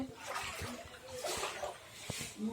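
Floodwater knee-deep inside a house sloshes and splashes softly as someone moves through it, with faint trickling and a few louder splashes close by.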